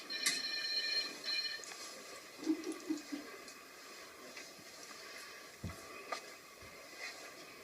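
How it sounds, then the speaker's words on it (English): Telephone ringing in a courtroom, one short high electronic trill at the start, then quiet room noise with faint rustles and a few soft thumps. "She should have took that phone call"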